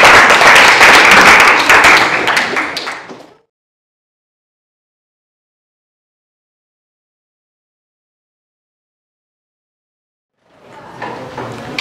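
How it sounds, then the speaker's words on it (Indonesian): A classroom gives brief applause, a burst of many hands clapping that fades out after a few seconds, followed by a long silence before quieter room noise and movement return. "Baik, tepuk tangan dulu."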